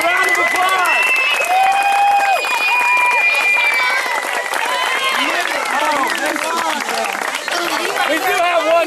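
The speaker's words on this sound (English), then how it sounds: "give these counselors or campers a round of applause" Crowd applause for camp counselors and campers, steady clapping with cheers and overlapping voices, loud and close throughout.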